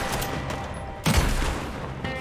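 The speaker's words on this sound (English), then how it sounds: "Oh god, I'm getting shot." Gunfire from Red Dead Online arrives as a dense crackling volley over steady ambient game noise, with one sharper, louder burst partway through.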